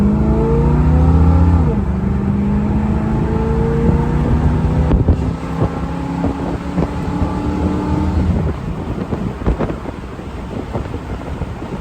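A 1968 Chevrolet Camaro RS SS 396 with a 325 HP V8 accelerates hard, a loud, deep engine roar whose pitch climbs in steps through the gears before easing off, heavy wind buffeting throughout.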